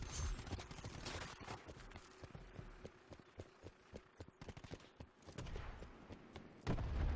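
Enemy gunfire hits the player in Call of Duty: Black Ops 4 multiplayer as rapid bursts of sharp, fairly quiet shots and impacts, with louder clusters near the start and end.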